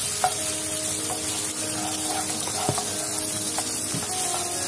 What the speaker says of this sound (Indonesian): Nah ini kita harus tumis sampai benar-benar matang.